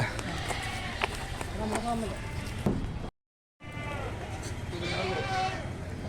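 Goats bleat at the Kalampur goat market, several short calls near and farther off amid crowd chatter, with people talking throughout and a brief cut to silence midway.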